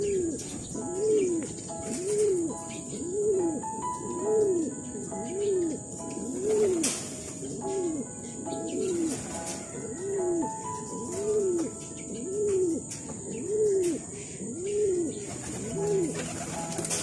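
Racing pigeons coo in a steady, repeating rhythm close by, each soft rolling call following the last about every second, with faint chirps and a thin insect-like hiss in the background.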